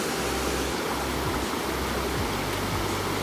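Water rushing steadily down a waterfall, a dense, unbroken roar of falling water that stays loud and even throughout with no voices.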